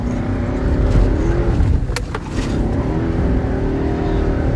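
Car engine revving hard while driving up out of soft desert sand in Dubai, a loud continuous roar with rising strain and a brief dip midway, dense and close.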